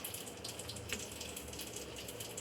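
Tap water runs steadily and softly into a sink while green chillies are washed, with no talk.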